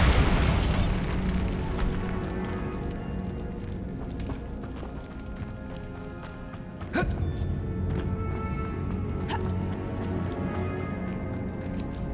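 A Bombarda spell goes off in Hogwarts Legacy with a sharp, loud blast near the middle, set against a steady rumbling game ambience and footsteps, with a fainter burst later.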